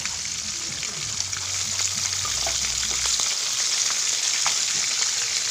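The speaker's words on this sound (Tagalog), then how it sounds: "Umiilag ako kamata kasi tumatalsik yung mantika." Gourami fish from Laguna Lake frying in spattering cooking oil, a dense, continuous sizzle with scattered crackles and pops, close and steady throughout.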